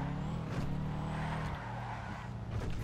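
Upgraded Sultan car engine in GTA 5, revving loudly and continuously for a few seconds with a brief surge in the middle, close and alone with no talk.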